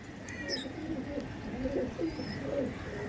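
Racing pigeons cooing softly in a loft, low burbling coos repeated over a faint steady background hum, with a few thin chirps above.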